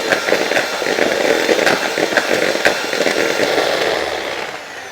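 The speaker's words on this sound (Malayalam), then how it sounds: "ഈ ബട്ടർ ഒന്ന് ചെറുതായിട്ടൊന്ന് ബീറ്റ് ചെയ്ത് കൊടുക്കണം." Electric hand mixer beating butter in a bowl for a Kerala Christmas fruit cake, a continuous buzzing whir with slight clatter of beaters, steady and close throughout.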